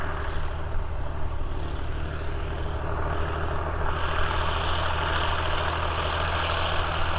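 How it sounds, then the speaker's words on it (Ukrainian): Heavy engines of tractors and combines working in fields drone steadily and loudly, a continuous low rumble of farm machinery working nearby with no pauses. "це трактори та комбайни вже працюють на полях"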